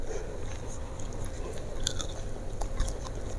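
Crunchy bites and chewing of fried mackerel with raw watercress and shrimp-paste sambal, close and steady over a low background hum, with no talking.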